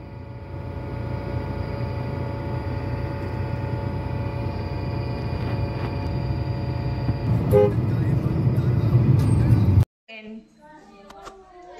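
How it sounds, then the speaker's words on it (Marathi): Car horns honk in a traffic jam in Karad town, sounding over steady engine rumble and road noise with brief toots, then the din cuts off to quieter background with faint voices. "traffic jam"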